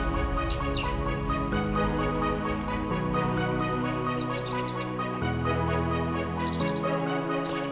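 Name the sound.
birds chirping in Madeira mountain forest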